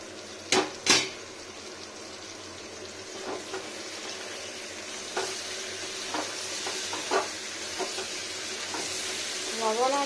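Papaya pieces frying in a pan with salt and sugar for a vegetarian curry, giving a steady soft sizzle broken by a few sharp clinks and stirring scrapes, close and fairly quiet with no talking.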